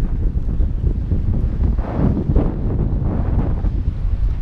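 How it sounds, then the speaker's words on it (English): Strong wind buffets the microphone by a canal-side viewpoint in Liverpool, a loud, continuous low rumble with gusty surges and no voices. "It's really windy, so I don't know if you're going to hear this"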